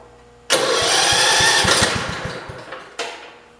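A 1968 Land Rover 110 engine that has sat unused cranks with a rhythmic chug, catches, and runs loud and close for a couple of seconds before faltering, followed by a second sharp burst of engine noise.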